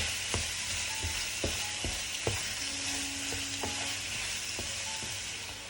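Chicken livers frying in a pan over lowered heat while being stirred: steady close sizzle with repeated scraping stir strokes throughout.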